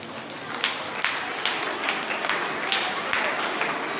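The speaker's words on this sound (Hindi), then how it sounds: "उस स्नेह और प्यार के लिए जोरदार तालियां बजाइए" A school audience at a Children's Day celebration applauds steadily, a continuous crowd clapping heard at moderate volume with a few sharper individual claps standing out.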